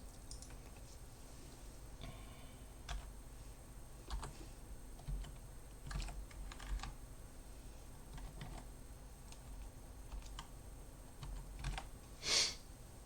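Sparse keystrokes on a computer keyboard while math values are entered for graphing, scattered irregular taps and short clusters over a steady quiet background hiss, with no talking.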